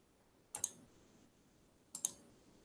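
A computer mouse is double-clicked twice, each pair of sharp, quiet clicks close together and separated by a second of near silence in a quiet room.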